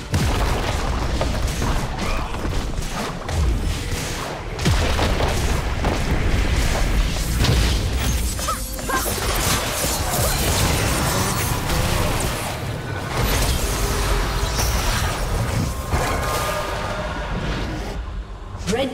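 Loud, dense League of Legends match audio with repeated booming impacts and crashing, mechanical destruction sounds as a turret is destroyed, continuous throughout with busy game effects layered on top.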